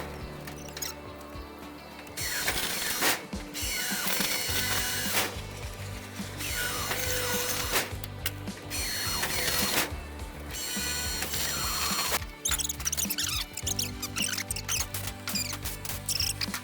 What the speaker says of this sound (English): Right here we're just drilling holes so we can go back through and put a row of rivets across the top.